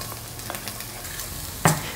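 Garlic sautés in olive oil in a pan on the stove, giving a soft, steady sizzle with a few light stirring scrapes and a louder clatter near the end.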